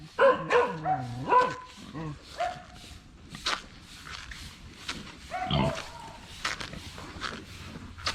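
Dogs barking repeatedly at a pig farm on the shore of Siquijor, close and loud in irregular bursts, with pig grunts and oinks mixed in and some background activity.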